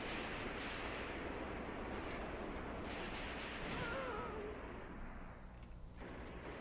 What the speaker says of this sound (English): Maxim gun, huh?